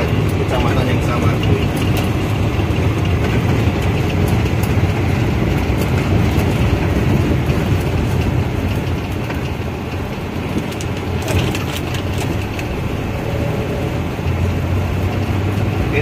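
A 1995 Daihatsu Zebra Espass rolling slowly below 20 km/h through a village, its steady low engine and road rumble continuous and close, with someone talking over it.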